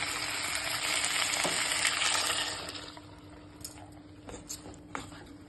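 Ground roasted paste is poured into brinjal kulambu frying in a pan, Pollachi style. A loud, close hissing sizzle lasts a few seconds, then dies down to soft bubbling with a few small clinks.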